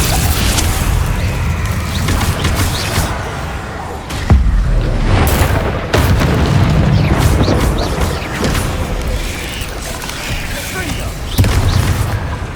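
Confringo fire-spell blasts in the game Hogwarts Legacy, loud booming explosions and bursts within a dense, continuous wash of combat effects, with a voice calling out spell names.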